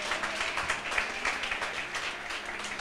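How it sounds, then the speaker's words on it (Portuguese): A church congregation applauds during a pastor's sermon, a moderate wash of clapping with some sharper individual claps, steady and fairly close, no speech over it. "aplauda bem forte a Ele."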